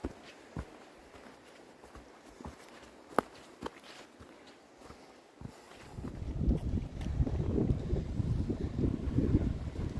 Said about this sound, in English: Starting to get breezy